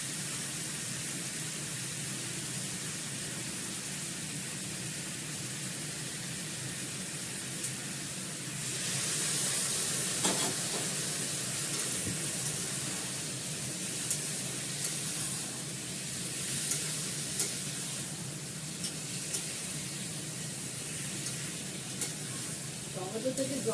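Boiled green peas cooking in a pan, a continuous broadband sizzle and hiss with a brief louder burst near the middle and a few faint clinks, steady and close.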